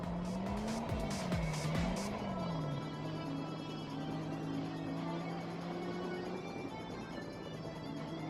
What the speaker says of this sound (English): He re-enters the track with some very strange drivetrain noises